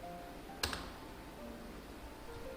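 A single keypress on a computer keyboard, one sharp close click standing out against a quiet background hum.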